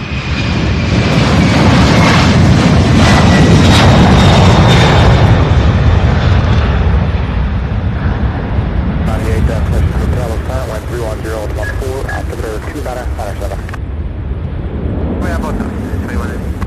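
A UPS heavy jet airliner climbing out after takeoff at SDF in Louisville, Kentucky: a loud, continuous roar of jet engines that fills the whole stretch and fades slightly over time, with an air traffic radio voice breaking in partway through.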